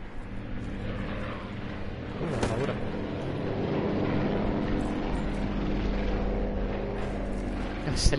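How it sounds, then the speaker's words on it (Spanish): A helicopter flies overhead in the Call of Duty Blackout beta on PS4, its steady rotor drone holding throughout as a loud, continuous wash with a faint voice now and then. "Ese helicóptero no deja escuchar ni piña"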